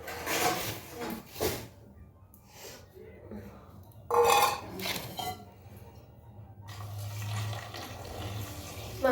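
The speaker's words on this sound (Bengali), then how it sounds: "মাংস ধুয়ে নিয়ে আসলাম," Water splashes and runs from a tap while meat is washed in a bowl, with intermittent gushes and clinks of the dish, and voices talking throughout.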